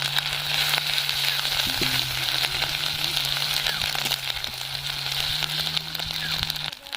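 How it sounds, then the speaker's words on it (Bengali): Steady sizzling of ginger garlic paste frying with onions in a pan, a continuous hiss with faint crackles and occasional stirring scrapes, fairly close, with no one talking. "আদা রসুনটাও ভালো করে ভাজা হয়ে গেছে"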